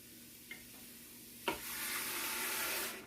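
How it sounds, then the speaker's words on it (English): Beef broth poured into a hot Instant Pot: a short clink, then a sharp splash that settles into a steady hissing sizzle lasting about a second and a half before it fades. "We're going to go ahead now and get our broth in here."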